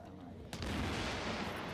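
A grenade blast in the shooter game Tom Clancy's The Division, a sudden loud boom after a quieter lead-in, followed by a sustained rumbling roar.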